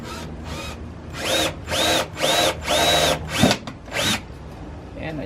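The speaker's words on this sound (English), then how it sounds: "And I drilled into the tail." A power drill bores into the tail area of a Mazda Miata NA during a speaker install, whining in several short revving bursts with pauses between them.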